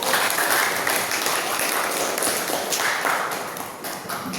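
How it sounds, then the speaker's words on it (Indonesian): An audience at a school session in a classroom or hall breaks into sustained applause, a dense, even wash of clapping that holds steady at moderate loudness and tapers slightly near the end. "Tepuk tangan yang meriah buat dulu."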